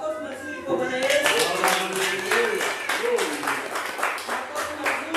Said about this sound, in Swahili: Makofi mazuri kwa Bwana Yesu.